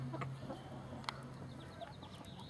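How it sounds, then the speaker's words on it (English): Backyard hens cluck softly in a garden, with a few low calls and a brief sharp peck or tap over faint outdoor background. "these are my chickens."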